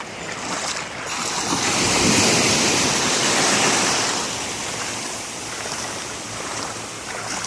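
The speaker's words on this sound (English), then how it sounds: "when you're wading through water, the steps are much smaller and slower" Shallow surf at Sand Key beach, Florida, rushes loudly around someone wading slowly through it, a broad swelling wash of water and wind that rises and eases with no talk.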